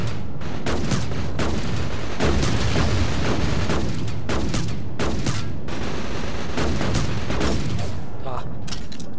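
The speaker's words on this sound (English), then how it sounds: "Alright, here's a shotgun." Shotgun blasts in the space shooter Shattered Horizon, several heavy booming shots spaced a second or two apart amid a busy firefight, loud and near.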